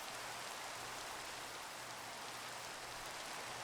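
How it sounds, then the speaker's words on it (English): Steady rain falls in a dense, even hiss, close and continuous, with no voices over it. "And this seems like normal rain and not terrible lightning rain"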